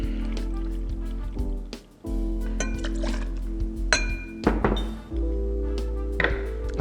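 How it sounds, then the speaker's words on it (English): Rye whiskey poured into a mixing glass for a Sazerac, a liquid trickle with glassy clinks and a couple of dull thunks from setting bottle and glass down, close and clear with no talk. "And then our 2 ounces of whiskey."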